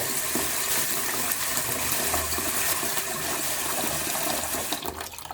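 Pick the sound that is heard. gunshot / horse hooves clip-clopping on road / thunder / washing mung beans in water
washing mung beans in water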